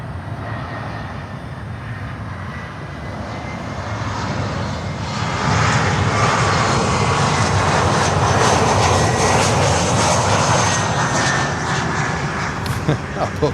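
An Air France airliner arriving on runway 12 at Miami Airport, its jet roar swelling gradually from a distant rumble to a loud, broad, steady rush as it draws near, with voices heard over it.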